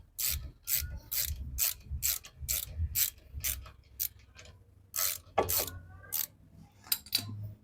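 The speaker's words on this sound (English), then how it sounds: "Then you can continue removing the bottom bolt." A hand ratchet clicks in quick, steady strokes, loosening the bottom bolt on the rear brake of a 2016 Mazda 6, with brief pauses and a final short burst of clicks close by.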